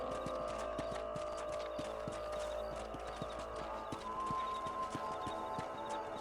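Horse hooves clip-clopping at a steady run in the video game Red Dead Redemption, regular rhythmic beats under a low background hum and game ambience, moderately faint.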